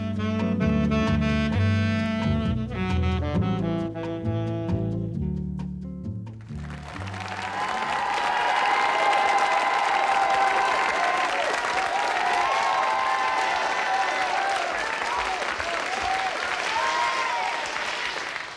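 Warm studio audience applause fills a French television talk show set, a dense, sustained wash of clapping that swells after a musical opening fades out and keeps going steadily to the end.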